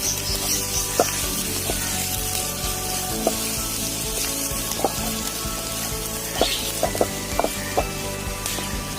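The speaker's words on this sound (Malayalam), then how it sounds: "അതും കൂടി നമ്മുടെ ആഡ് ചെയ്തിട്ട് നന്നായിട്ട് ഇളക്കി കൊടുക്കാം." Garlic and ginger stirred into a simmering onion gravy in a clay pot for beef kondattom fry, giving a steady close sizzle with scattered soft scrapes and clicks of the spoon against the pot.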